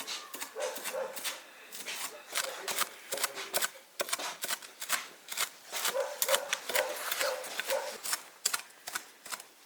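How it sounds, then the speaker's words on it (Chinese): Rapid, uneven knife chopping of fried Sichuan peppercorns and chilies on a cutting board, sharp close taps in quick bursts with brief pauses, continuing throughout. "把花椒、辣椒剁碎，"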